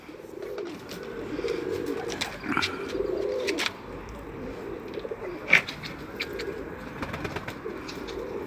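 Pigeons coo outdoors in low, steady repeated calls, with a few sharp clicks and a soft flutter or knock partway through and no talking.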